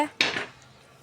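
A single sharp metallic clank as a wok is set down on a stove, loud and close, decaying quickly into quiet.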